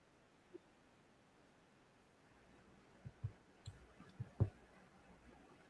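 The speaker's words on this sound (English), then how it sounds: "I can hear you clicking. I just can't hear you yet." Scattered clicks come through a call's audio line, a handful of faint, irregular taps mostly bunched in the second half against a low hiss.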